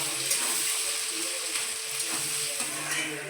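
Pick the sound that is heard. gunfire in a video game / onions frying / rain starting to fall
onions frying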